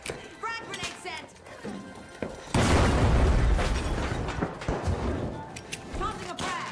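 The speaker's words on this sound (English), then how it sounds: "Frag grenade sent." A frag grenade explodes in the video game The Finals. A sharp, loud boom lands midway and is followed by a rumbling, crackling decay, with a voice talking beforehand.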